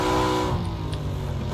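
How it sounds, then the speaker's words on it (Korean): Car engine approaching in the battle-royale game PUBG, a steady tonal hum with droning harmonics that stays fairly constant and moderately loud, with no talking over it. "야, 온다. 예, 차 소리."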